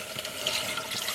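Thick coconut cream pours into a pan in a short, faint, steady liquid stream with a soft splashing texture.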